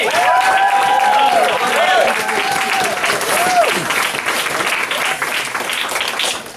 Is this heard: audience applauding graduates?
yes